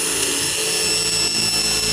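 A power drill drives a screw into composite decking with a loud, continuous, steady whine held close throughout.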